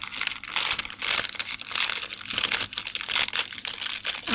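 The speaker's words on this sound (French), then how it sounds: "il faut le couper en deux. Mon ciseau, il coupe pas." Scissors struggle to cut a Popin Cookin sushi kit package, making crinkly plastic crackling and rustling in quick bursts close to the microphone.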